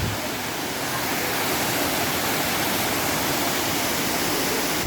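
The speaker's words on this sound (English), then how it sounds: "Such an amazing water is coming from the mountain" Mountain waterfall in a dry rocky area, a dense, constant roar of falling water, loud and close with no breaks.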